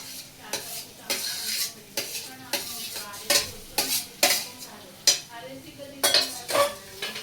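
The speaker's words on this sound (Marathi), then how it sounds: "आणि मग ते नीट मिश्रण एकजीव करून घ्यायचंय" Mashed potato masala is stirred in a wok, with about a dozen close, rhythmic scraping strokes of the spoon against the pan, each with a soft sizzle, and no talking.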